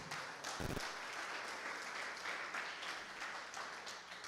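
Church congregation applauding together in praise, a dense steady wash of clapping that holds throughout, with one brief louder burst near the start and no voices over it.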